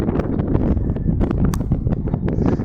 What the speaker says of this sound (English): So this side of the tower is a little bit less windy.